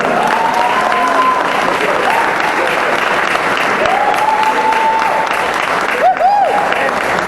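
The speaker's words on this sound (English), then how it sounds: "Give yourself a round of applause." At a community gala event, a large crowd breaks into sustained loud applause, a thick continuous wash of clapping with scattered cheers and whoops rising above it throughout.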